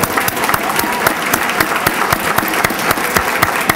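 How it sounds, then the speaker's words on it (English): An audience at a ceremony claps for the scouts, a loud, dense round of applause with sharp individual claps throughout, no one speaking over it. "Let's give our scouts a round of applause."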